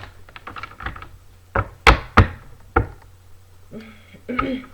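Tarot cards are riffled and tapped together in short bursts, a few sharp slaps and flutters separated by pauses, close and fairly crisp.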